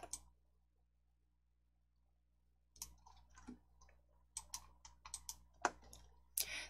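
Mouse clicks on a replace button in Hangul word-processing software, several sharp dry clicks in an irregular cluster near the end after a long quiet stretch, faint and close.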